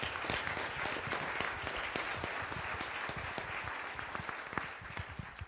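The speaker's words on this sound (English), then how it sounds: "give Jeff a round of applause for all the hard work he's been doing" Members at a general membership meeting give sustained applause for an outgoing organizer, a thick, even wash of clapping from a room full of people.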